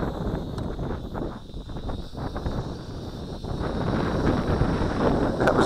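Wind buffeting a microphone outdoors during a flight test of a Fineco FX-6C camera drone, a steady, loud roar and rumble that builds slightly toward the end, with no voices.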